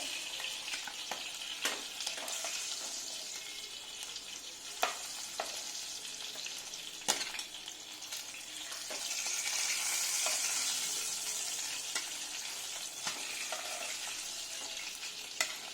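Hilsa fish frying in hot oil in a pan, a steady loud sizzle with occasional sharp pops and spoon clicks, swelling briefly midway.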